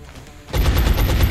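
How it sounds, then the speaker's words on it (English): Gunfire in the XCOM video game erupts after half a second of quiet: a loud, sustained rapid burst of shots that runs to the end, close and dense, with no voice over it. "so I gotta shoot you anyway"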